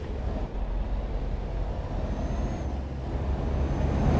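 Air brakes hiss on a heavy truck in Euro Truck Simulator 2, a steady broadband whoosh over low engine rumble that holds for several seconds, growing slightly louder toward the end, with no talk.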